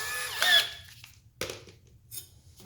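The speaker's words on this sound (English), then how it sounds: "Get our 1/4" drill bit." A power drill with a 1/4-inch bit whirs briefly at high pitch, then gives a couple of shorter bursts, close by with quiet gaps between, while fitting side skirts to a Lexus SC300.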